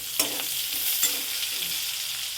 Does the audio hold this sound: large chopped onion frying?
yes